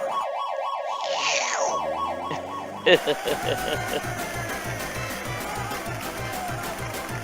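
A wailing ambulance siren in the 1989 SNK video game Street Smart cycles up and down for about three seconds, then gives way to a busier, game-like mix of engine noise and repeated effects.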